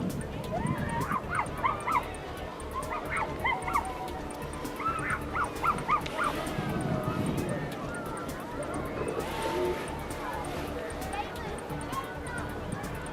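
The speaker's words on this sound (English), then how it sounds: "There's the dog." A dog barks and yips amid the bustle of a Christmas parade crowd, short barks scattered over steady background chatter and street noise, with people talking nearby.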